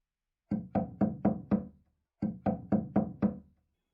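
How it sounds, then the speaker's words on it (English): Someone bangs on a door in a visual novel video game: two quick bursts of five heavy knocks each, separated by a short pause, loud and close with nothing else behind them. "I hear someone banging on my door."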